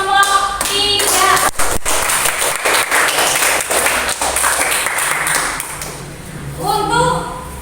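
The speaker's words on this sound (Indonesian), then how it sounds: "Jadi tepuk tangan untuk kelompok 1, kelompok 2 dan kelompok 3." A classroom of students claps for student groups 1, 2 and 3, a dense burst of hand claps under a teacher's voice, with speech returning near the start and end.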